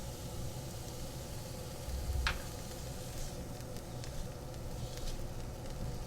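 Green chilies sizzle steadily in a hot pan, a continuous soft crackling hiss with faint pops, close and alone without talk.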